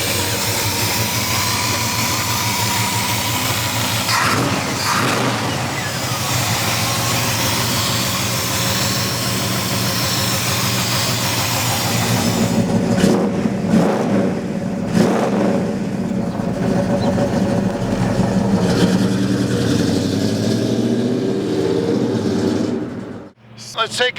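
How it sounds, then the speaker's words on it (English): A 1968 Chevrolet Chevelle SS convertible with a big block and 3-inch exhaust, recorded while driving. The exhaust rumbles deep and loud throughout, with revs surging and easing, and it ends with a brief cut and a thump. "That 3-inch exhaust is just singing."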